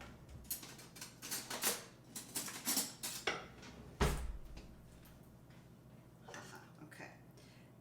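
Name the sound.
getting a spoon, cutlery clatter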